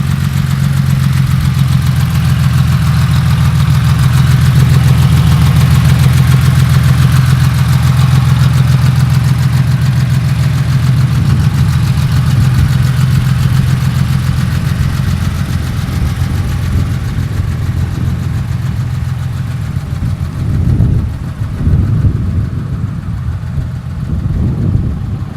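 A 1971 Porsche 911T fitted with a Vintage Speed exhaust idles with a deep, steady burbling drone, close and loud, settling slightly lower toward the end with a couple of small blips.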